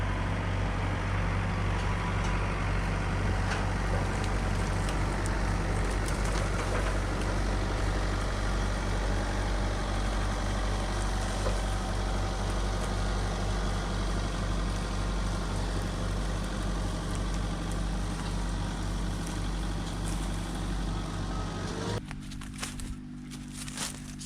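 A heavy tractor engine idles steadily with a low rumble for a long stretch, then cuts off abruptly near the end, leaving quieter background.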